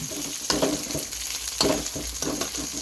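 Curry leaves sizzle in hot oil in a pan with lightly fried onion and garlic, a steady loud frying hiss broken by a few sharper crackling bursts as the pan is stirred.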